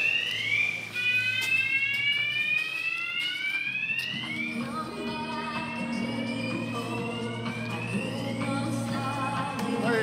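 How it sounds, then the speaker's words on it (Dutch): Fire alarm in a new football stadium, set off by tea appliances mounted right beneath it: loud repeating electronic sweeping tones that rise and fall in a steady cycle, with a voice faintly underneath. "hadden ze precies onder de brandalarm. Of vandaar dat het afging."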